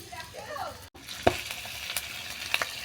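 Chicken hitting spiced oil with ground turmeric, chilli powder and torn green chilli, giving a low continuous sizzle after a brief drop, then a few sharp spatula scrapes and clinks against the pan.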